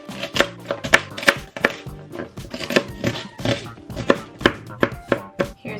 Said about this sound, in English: so I'm just gonna chop it